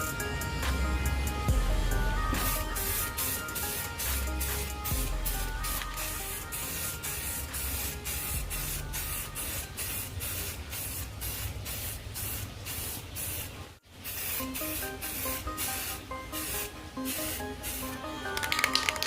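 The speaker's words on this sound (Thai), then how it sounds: "โอเคครับเดี๋ยวเราทำการพ่นกันเลยครับ" An aerosol spray paint can hisses in long and short bursts while coating a Honda Jazz alloy wheel, close and steady, with a brief break in the middle and no talk.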